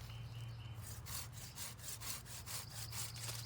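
Hand saw cutting through a wooden tree branch clamped in a plumber's vise to trim a camp cooking extension handle, heard as steady rhythmic back-and-forth rasping strokes, close and fairly loud, with no talking.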